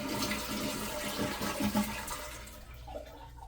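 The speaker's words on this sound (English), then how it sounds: "and then empty your toilet tank" A household toilet flushes as its tank is emptied during a bidet sprayer installation, a loud rushing swirl of water that drains and fades away over a few seconds.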